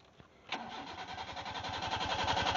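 A petrol car fueled with diesel by mistake cranks continuously after a brief click, the starter churning in a fast, even rhythm for about two seconds without the engine catching.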